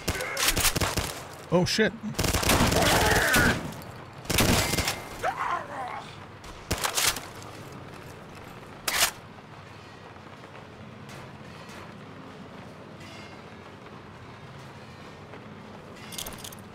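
Enemy weapons fire in Fallout: Tale of Two Wastelands: several loud bursts of gunfire and single shots come close together early, then thin to one late shot over quiet ambience, with a brief exclaimed voice.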